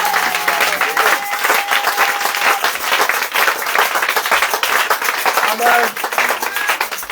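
A church congregation at a morning prayer service claps loudly and continuously while voices call out over the applause.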